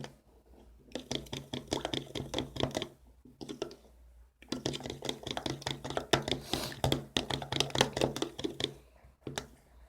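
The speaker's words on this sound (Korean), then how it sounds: "액괴를 넣어줍니다. 그 다음에 섞어주세요." Emerald blue sea slime being mixed by hand, a close, rapid run of wet squelching taps and clicks in bursts, broken by short pauses.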